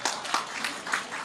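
An audience at a talk show applauds: a short burst of close, continuous clapping with uneven peaks, no speech over it.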